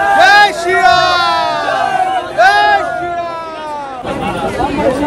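A dense crowd gathers outside Hanumangarhi temple in Ayodhya, with loud nearby voices calling and chanting in overlapping bursts above a continuous babble of chatter.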